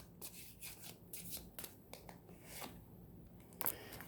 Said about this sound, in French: Je vais aller voir avec un autre jeu, mais je vais sortir seulement quelques cartes.